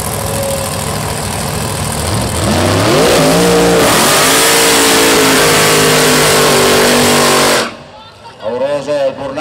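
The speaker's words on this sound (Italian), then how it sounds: "Pauroso il burnout come sempre del Blower, motore Blower alcol di Vince Rosiello" Supercharged blower alcohol drag race car doing a burnout at a hill race event, a loud sustained engine roar rising in pitch through revs for several seconds before cutting off, followed by fainter engine sounds in the background.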